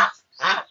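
Two short, close duck quacks with a brief gap between them, loud and clear, heard outdoors at a riverside home in the Mekong Delta.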